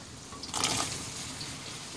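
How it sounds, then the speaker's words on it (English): Asparagus dropped into a pot of boiling water, a brief splash and burst of bubbling over a steady simmering hiss. "I'm going to cook some asparagus in boiling water"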